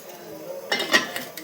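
A lid set down on a cooking pot makes a short metallic clatter and clink, a couple of quick close knocks over a quiet kitchen background.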